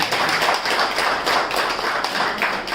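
A yoga session audience claps together for a birthday, loud dense clapping from many hands in a rhythmic, slightly pulsing pattern, close by and without any talking over it.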